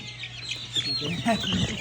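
Several chickens, a two-way cross breed, cluck and chirp close by in a busy, continuous jumble, with faint background noise.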